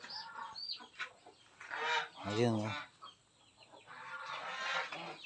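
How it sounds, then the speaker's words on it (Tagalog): Farm chickens cluck and squawk in several loud bursts, close by, with one sharp harsh call in the middle, while a person speaks briefly between the calls. "Ang dami palang manok dito."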